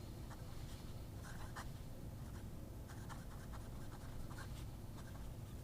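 A No 8 steel fountain pen nib with a medium line scratches softly across paper in short, repeated strokes, faint and close, with brief bursts of friction and no talking.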